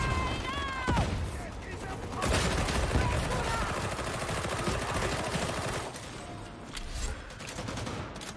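Dense, continuous gunfire fills a shooter video game, sounding as a sustained fusillade of rapid automatic shots at close range with no pause in the barrage.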